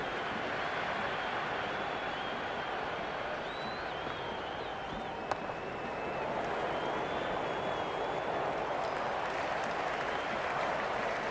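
Cricket stadium crowd during an India versus New Zealand run chase, a steady wash of cheering and applause with whistles poking through, sustained throughout at moderate distance under a faint commentary voice.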